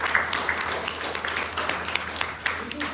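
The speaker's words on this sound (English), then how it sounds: "Please clap." Classroom audience at an epidemiology lecture clapping in a steady, moderately loud patter, with scattered sharper claps standing out against a dense background of hands.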